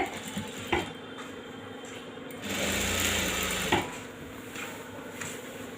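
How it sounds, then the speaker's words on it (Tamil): A sewing machine stitches along a saree pallu in short bursts, with a louder continuous run in the middle and a few clicks and knocks between runs, heard close up. "இப்போ வந்து இந்த கீழ் பக்கத்தவே தைக்கிறோம்"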